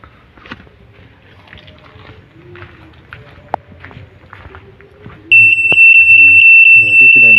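A newly installed parking sensor on a Suzuki APV bursts into a loud, continuous high-pitched beeping as the van is put in reverse, following a stretch of quiet handling noise.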